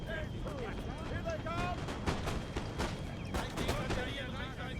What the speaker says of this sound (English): And here the Prussian shooting at our force